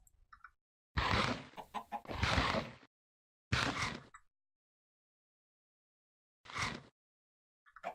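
Several short bursts of Minecraft chicken clucking separated by silent gaps, fairly close and moderately loud, with a couple of faint chirps between.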